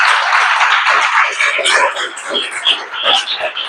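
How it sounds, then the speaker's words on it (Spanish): A church congregation breaks into loud, dense applause that fills the space, mixed with cheering voices from the crowd and fading a little toward the end. "Vamos a darle un aplauso al Señor"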